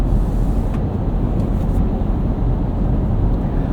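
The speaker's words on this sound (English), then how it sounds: "A little bit of road noise from that roof rack too." Steady broadband road and wind noise roars from the roof rack of a 2024 Toyota Land Cruiser First Edition as it drives on city streets, a constant low rumble heard from inside the cabin with no talking.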